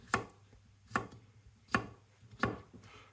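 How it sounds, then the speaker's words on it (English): A knife slices a cucumber into chunky pieces on a board, four evenly spaced crisp chops about a second apart, close and fairly quiet. "I'll show you how I'm going to slice up the cucumber. So I want quite chunky bits."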